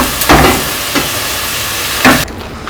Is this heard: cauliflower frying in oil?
yes